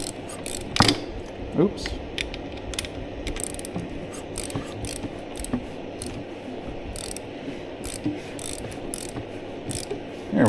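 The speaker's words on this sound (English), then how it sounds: "on my 3/8, and I'm just rotating the engine over a few times" A 3/8-inch ratchet turning a Suzuki DRZ400SM engine over by hand during a rebuild to compress the valves: close, steady ratcheting clicks in repeated strokes with mechanical knocks, and a brief spoken word partway through.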